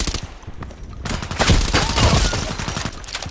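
Rapid bursts of automatic rifle fire from the online shooter Contract Wars crackle loudly and densely for several seconds, close and continuous with brief gaps.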